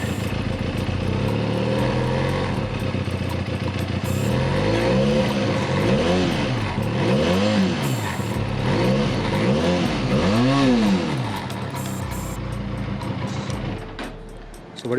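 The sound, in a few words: Benelli Leoncino 500 twin cylinder motorcycle exhaust revving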